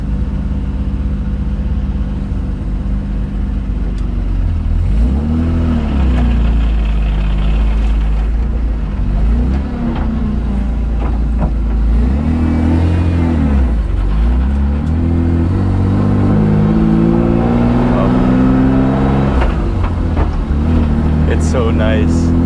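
A BMW E36 with a turbo engine and a 3-inch straight-pipe exhaust rumbles loudly and deeply, with repeated revs that rise and fall in pitch and a few burbles.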